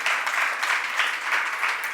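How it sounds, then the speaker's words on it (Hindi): An audience of women at a religious discourse in Delhi claps steadily for two seconds, forming a dense, continuous wash of applause with no voices over it. "महिलाओं अच्छे से ताली बजाओ, कैमरे में ताली की आवाज जाती है।"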